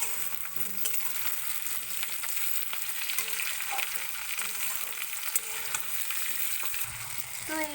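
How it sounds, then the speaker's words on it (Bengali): Tomatoes and onions stir-fried in oil for duck egg curry, a steady close sizzle with scraping stirs throughout, no talking. "এবার এর মধ্যে আমি টমেটো দিয়ে টমেটোগুলো ভালো করে মিক্সড করে ভেজে নেব"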